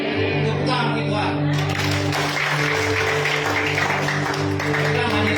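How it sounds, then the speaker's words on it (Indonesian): A church congregation applauds at a Sunday service: steady, dense clapping and crowd noise fill the clip throughout, with a low sustained hum or music underneath. "Tepuk tangan bagi Tuhan."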